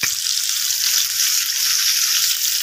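Pieces of catla fish fry in hot oil in a home kitchen, a steady, close, loud crackling sizzle that holds without a break and stands alone with no talking.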